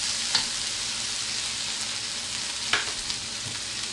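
Steak meat frying with onions in a pan, a soft steady sizzle with a few brief clinks and stirs, quiet and close with no talk.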